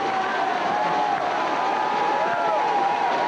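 A high school football crowd at a 1993 state championship game for Thomas County Central roars steadily in the background while a commentator's voice talks over it.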